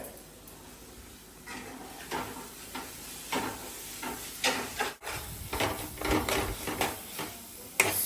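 Vada pav masala with coriander leaves fries in a pan, a low sizzle under irregular scraping and clattering as a spoon stirs it, with one sharp knock near the end.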